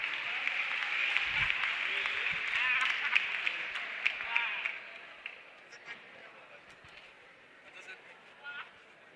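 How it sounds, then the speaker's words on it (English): An audience claps at a campus community safety forum launch at Mopani TVET College. The steady crowd applause holds for about four seconds, then thins to scattered claps with a few voices. "A round of applause for that."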